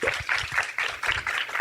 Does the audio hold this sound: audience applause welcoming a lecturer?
yes